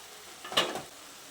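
A brief scrape of stirring fried potatoes and soya chunks in spices in a pan brings a short burst of sizzling, then quiet frying hiss.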